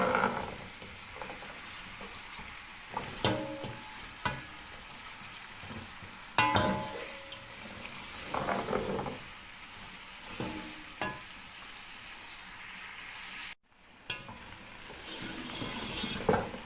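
Beef bong and onions fry in a pan with a steady sizzle, broken by stirring clatters of a spatula and louder bursts of hissing, close and moderately loud with little talk.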